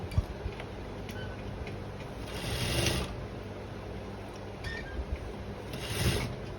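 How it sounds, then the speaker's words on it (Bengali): A sewing machine stitches the shoulder seam of a kameez, a close, steady mechanical whir with two louder stitching bursts, and no voices. "রাখার পর পুরোটা সেলাই করব।"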